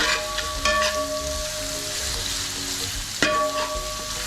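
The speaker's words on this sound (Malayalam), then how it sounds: "അപ്പോൾ നമ്മളതിനകത്തേക്ക് ഇനി സവോള ഇട്ട് കൊടുക്കുകയാണ്. സവോള ഇട്ട് കൊടുത്തു. നമുക്കൊന്ന് ഇളക്കാം." Sliced onions fry in a pan for Kerala-style kappa biryani, giving a steady, close sizzle with a couple of sharper scraping stirs partway through.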